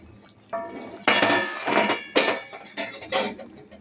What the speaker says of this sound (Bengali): এবার ঢাকনি খুলে দেখি কতটা কি হয়েছে